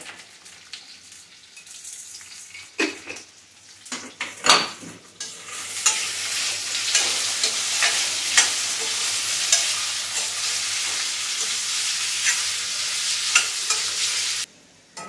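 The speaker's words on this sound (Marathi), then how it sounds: "आता बटाटा फ्राय झालाय." Potatoes with rock salt sizzle loudly in a pan, the steady hiss punctuated by repeated scraping stirs and clatter throughout, ending abruptly.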